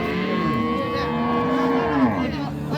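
Cattle low repeatedly at a busy cow market selling crossbred Friesian cows and calves, close and loud moos with gliding pitch over a crowded background murmur.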